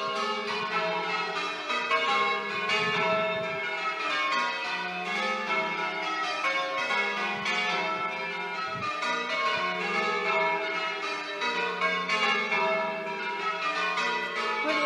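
Church bells ring continuously in a summer change-ringing session, a dense sequence of overlapping metallic peals at a steady rhythm, clear and fairly loud with no talking.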